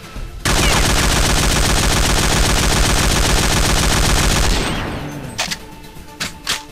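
Rifle fire in the shooting game Point Blank: one long, loud, rapid automatic burst lasting about four seconds, followed by a few separate sharp single shots.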